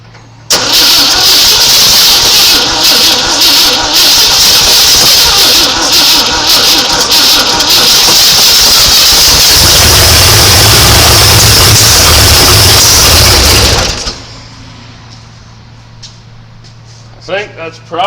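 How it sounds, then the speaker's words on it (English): The carbureted engine of a 1972 short-bed dually truck catches and runs loud and close for about thirteen seconds, rough and uneven with heavier low thumps near the end. It then cuts out, leaving near silence and a couple of knocks. "I think that's probably backfiring because it's running out of fuel in the carb"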